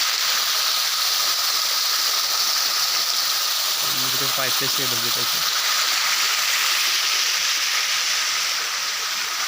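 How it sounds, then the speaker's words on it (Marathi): A waterfall on Mandakini hill pours with a constant loud hissing rush, heard close and unbroken throughout, with a short spoken phrase briefly over it midway. "बघू शकता धबधबा"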